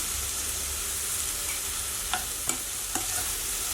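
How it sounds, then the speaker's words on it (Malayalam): Sliced onions with salt sizzle steadily in a pan as a base for rava upma, a loud even frying hiss with three sharp spatula clicks against the metal near the end, no talk. "ഇവിടെ നന്നായിട്ടൊന്ന് വഴറ്റിയെടുക്കാം സവാള ഇട്ടതിന് ശേഷം ഇത് പെട്ടെന്ന് വഴന്ന് കിട്ടാൻ വേണ്ടിയിട്ട് ഇതിലേക്ക് ഉപ്പ് ചേർത്ത് കൊടുക്കുക"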